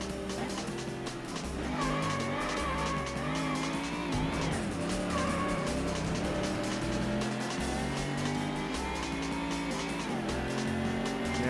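Ford Mustang variant race car in the PS1 game Ford Racing, a steady loud engine drone with shifting pitch and tire squeal throughout, continuous and close with no talk.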